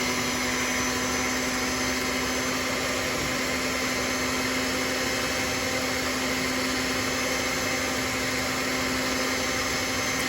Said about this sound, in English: I'll stop my mixer just so that I can get this excess that's around the edge of the bowl